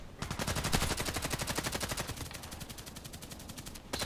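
Rapid repeated firing in a video game, a fast, evenly spaced stream of sharp shots at moderate level, slightly fading over about four seconds with no talk.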